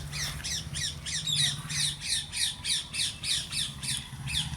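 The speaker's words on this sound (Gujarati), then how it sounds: "નાની ચકલીઓ, પછી નાના પોપટ ને પ્યારા પોપટ" Small sparrows and little parrots chirp and squawk in a dense, rhythmic chorus of repeated calls. The birds are close and loud, and a low steady hum runs underneath.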